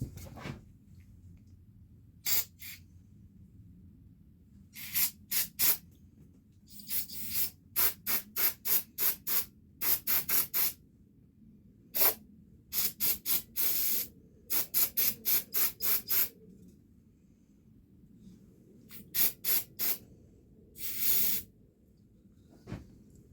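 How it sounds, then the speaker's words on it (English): A can of carburetor cleaner sprays in short, sharp hissing bursts to blow out a Mopar fuel sending unit. The bursts come close by in irregular clusters of quick repeated squirts, with brief quiet gaps between them. "I just used some, that's actually carburetor cleaner. It's compressed enough."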